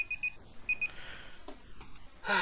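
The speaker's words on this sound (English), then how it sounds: "Oh, there goes my timer again." A timer gives a few short, high, faint beeps in quick pairs near the start, then falls quiet under low background noise.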